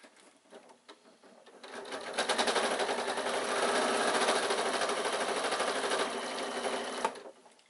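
A sewing machine stitches across the fabric of a baby away-day bag in one long, steady, rapid mechanical run, loud and close, starting up slowly and stopping after several seconds.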